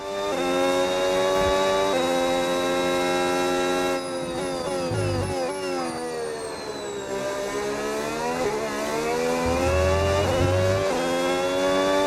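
Red Bull RB22 Formula 1 race car engine in the video game F1 26 during a pre-season testing outlap, loud and close, holding a sustained high whine that climbs through upshifts and drops sharply on downshifts, with no talk over it.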